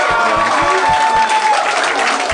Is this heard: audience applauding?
yes